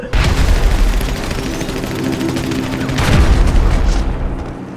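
A grenade blast in the GTA V FiveM role-play game: a loud, booming explosion near the start that rumbles on, with a second heavy boom around three seconds in amid a steady din of game noise.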